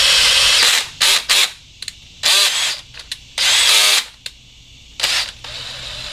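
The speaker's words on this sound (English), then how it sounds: "it's easy if you go ahead and put these screws in here so you can place them in the right spot" Power drill driving screws into CC-2 cooler chocks: loud, close whirring bursts that start and stop repeatedly, with short pauses between runs.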